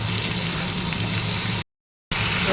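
Eggplant pieces drop into a frying pan with spiced flour, and a steady loud sizzle carries on with a brief dead gap.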